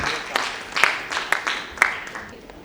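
Audience applause at a mushaira poetry gathering, a broad rush of clapping with a few sharper bursts standing out, steady and fairly close for nearly three seconds.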